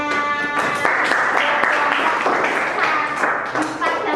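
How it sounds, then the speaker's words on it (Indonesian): A school class claps together after a group presentation, a dense burst of near applause that lasts for a few seconds, with some voices mixed in at the start. "tepuk tangan"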